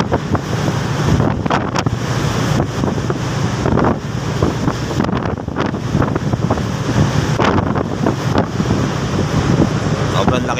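Strong wind buffets the microphone at Marseille port beside a large ship under tow by two tugboats, a loud, steady roar with gusty surges and a rushing water-like wash throughout.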